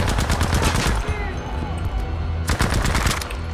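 Rapid automatic gunfire in Battlefield 5: loud close bursts of shots, a short pause, then another burst, with faint voices underneath.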